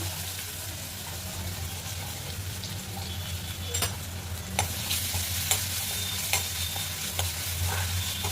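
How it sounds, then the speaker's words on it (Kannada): Garlic, onion and dried red chillies frying in oil for saaru, with a steady sizzle and a run of sharp spatula scrapes and clinks that get busier partway through. "ಇದು ಸ್ವಲ್ಪ ಫ್ರೈ ಆಗಲಿ."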